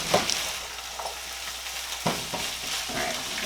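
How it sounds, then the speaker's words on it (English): Garlic sizzles in a skillet over medium-low heat, a steady close frying hiss broken by a few stirring scrapes and clicks. "Here it's sizzling."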